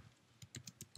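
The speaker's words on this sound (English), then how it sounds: "Let's type" Computer keyboard typing, a short run of quiet, quick key clicks in an uneven rhythm, close by and alone.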